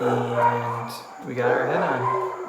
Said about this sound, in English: Excuse my dogs here